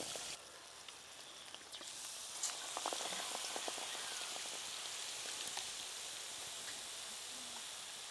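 Potato chops and beguni (gram-flour battered fritters) deep-frying in oil in a village kitchen, a steady crackling sizzle with scattered pops and bubbling, fairly loud and continuous with no talk.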